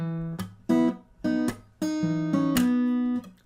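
A short phrase of a song's riff on acoustic guitar: a few plucked, ringing notes separated by crisp string slaps, played close and alone.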